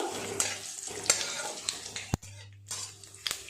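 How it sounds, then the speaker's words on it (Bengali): Whole spices, bay leaf and cumin, crackle and sizzle in hot oil, with intermittent clinks and scrapes of a utensil stirring the pan, close and fairly soft. "ফোড়নটা খুব ভালো করে ভাজা করে নেব।"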